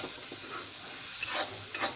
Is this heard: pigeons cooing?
no